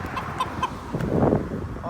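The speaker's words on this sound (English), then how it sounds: "chicken on the side of the road" A chicken clucks by the side of a road in Dominica, a few short, near clucks followed by a louder burst of fowl noise over light outdoor background.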